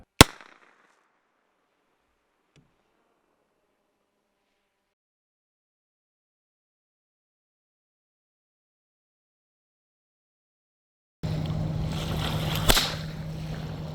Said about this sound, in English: you can also use this to launch flares. Here are some videos of that.